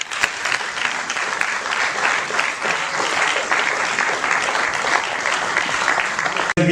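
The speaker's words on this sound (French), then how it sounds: "On applaudit s'il vous plaît." An audience at a ministry small-business support project ceremony breaks into sustained applause, a dense, steady wash of many hands clapping that fills the room before stopping abruptly at the end.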